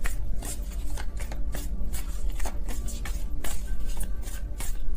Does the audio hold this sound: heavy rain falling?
no